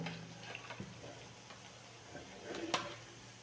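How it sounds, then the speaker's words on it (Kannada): Pumpkin gargi fritters fry in hot oil with a faint, low sizzle and a few soft clinks and stirring sounds close by, quiet throughout. "ಇವಾಗ ಗಾರ್ಗಿ ಚೆನ್ನಾಗಿ ಎಣ್ಣೆಯಲ್ಲಿ ಫ್ರೈ ಆಯಿತು"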